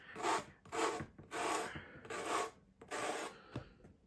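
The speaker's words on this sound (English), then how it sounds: "So I'm going to take my sander and pretty much sand this off." An electric sander works over a small Dollar Tree sign, giving a series of rasping, rubbing strokes in rhythmic bursts with short gaps, close but fairly quiet and with no talking.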